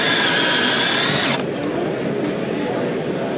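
A self-piercing screw driven through a metal roof panel with a power driver, a loud steady whir with a higher tonal whine that cuts off abruptly partway through, leaving a quieter noisy background.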